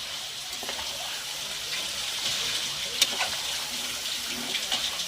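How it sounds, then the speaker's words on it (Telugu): Rice being stirred into biryani masala for a vegetable biryani gives a steady, wet hiss and soft scraping, with a faint clink near the middle. "ఇలా కలుపుకోవాలి బియ్యం మొత్తం ఈ మసాలాలో కలిపినట్టు చూసుకుని"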